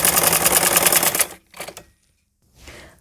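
Sewing machine running a straight line of stitching along a salwar mohri (trouser cuff) with buckram and foam inside: about 1.3 seconds of loud, dense, rapid needle chatter, then two short softer bursts after brief pauses.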